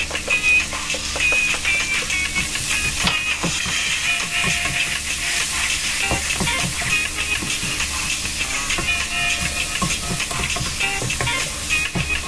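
Onions dropped into a hot frying pan for spaghetti sauce, a loud steady sizzle and hiss filling the whole stretch with faint scraping of stirring.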